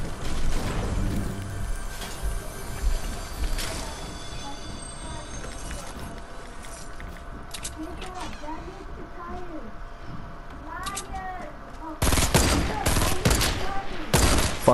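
Sniper gunfire in Fortnite Battle Royale, with loud sharp shot bursts at the start and again near the end and quieter game noise in between.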